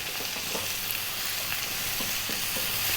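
Curry spices and tomatoes for a potato curry frying in a pan under constant stirring: a loud, continuous hiss of sizzling, close and with no voices, with faint scraping throughout.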